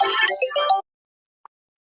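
A mobile phone ringtone plays loud and close in a short melodic burst, then cuts off into silence broken by one faint blip.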